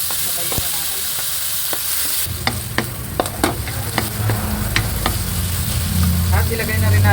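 Garlic, onion and tomato hit hot oil in a pan for ginisang ampalaya, setting off a steady loud sizzle with scattered clicks and knocks from stirring, growing busier toward the end.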